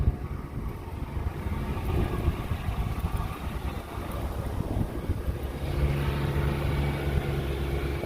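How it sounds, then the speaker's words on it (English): The AC compressor on a 2009 Ford Crown Victoria P71 police interceptor with 157k miles buzzes under a steady rumble from the engine bay. Partway through, a low, humming buzz switches on and keeps droning close by. "That's the AC compressor kicking on and off and making that buzzing noise."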